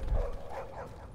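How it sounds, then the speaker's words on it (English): Dogs in the video game The Division give a brief, faint bark and yip, short and somewhat distant. "They aren't very friendly dogs in this game."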